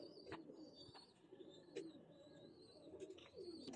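Pigeon coos from a khaki hen of a Saleti Kamagar pigeon line drift softly under low background murmur and a few faint chirps, with rolling calls repeating over about four seconds.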